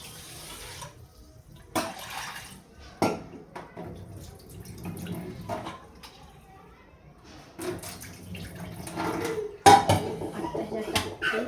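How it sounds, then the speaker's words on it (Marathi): Rice and lentils are rinsed by hand under tap water in a home kitchen: running water, splashing and sloshing in a pot, with occasional knocks of the vessel, close and moderately loud. "तांदळ आणि डाळ आहे, तर 2 वेळेस ना मी जे नळाचं पाणी आहे त्यांनी धुवून घेते"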